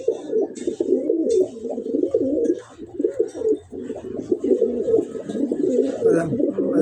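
Pet pigeons coo loudly and continuously at close range, overlapping throaty rolling calls filling the whole stretch with barely a pause.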